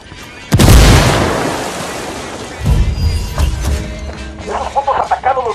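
A frag grenade goes off in the Ghost Recon Wildlands game as a loud, close boom with a long rumbling tail, followed by a second heavy thud and crackling debris, while a voice briefly talks near the end.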